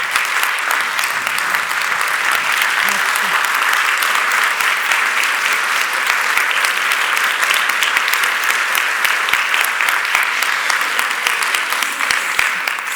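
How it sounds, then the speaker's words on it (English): Sustained applause from a large audience, a steady dense roar of clapping that carries on without a break. "another round of applause"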